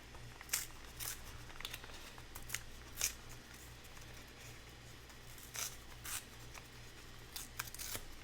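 A paper page torn by hand along a rough line while adding a signature to a journal made from a box. The tearing comes as a quiet series of short, rasping rips spread across several seconds.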